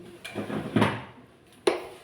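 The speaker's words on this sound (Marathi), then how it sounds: "आता भांडी घासते" Dishes clink and clatter at close range in a few sharp knocks against a sink, with soft scrubbing and rinsing noise in between.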